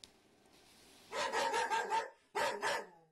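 Several dogs barking and yelping indoors in a cluttered house, two loud bursts of overlapping barks after a quieter scuffling start.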